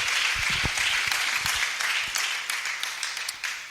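A church congregation claps in praise together, a dense burst of applause close by that gradually thins and fades toward the end.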